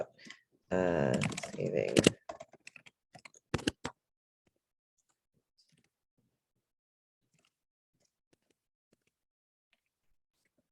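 Keys clack on a computer keyboard in a short burst of quick, uneven taps right after a person speaks a word, then fall away to near silence with only a few faint stray clicks.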